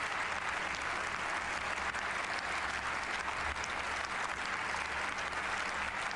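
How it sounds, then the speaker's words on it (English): Steady, dense applause from an audience at an event where King Charles speaks in German, filling the whole stretch evenly at a moderate distance with no voices over it. "A big round of applause there"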